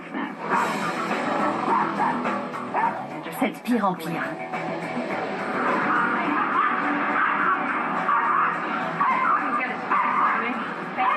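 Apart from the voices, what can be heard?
dog Stanley barking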